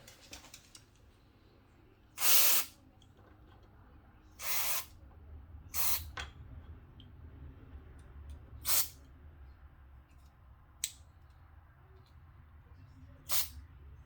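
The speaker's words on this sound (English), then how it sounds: "I'm going to spray some electronics cleaner on it." Several short hissing bursts from an aerosol can of electronics cleaner, spaced a second or two apart, close by and fairly loud against a quiet background.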